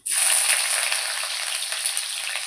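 Onions frying in hot oil with already-fried tempering spices for a carrot fry, a loud, steady, close sizzle and crackle that carries on without a break and with no voices.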